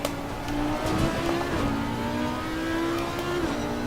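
A McLaren race car in a sim racing game during qualifying at Silverstone: a high-pitched engine whine held close and loud, its pitch climbing and dropping as it shifts, with no talk.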